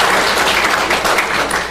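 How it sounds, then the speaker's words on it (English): Audience applause filling a conference room during an ethics talk, a steady dense wash of clapping held at even loudness throughout, close and unbroken with no voices over it. "so let's give Rachel a big round of applause"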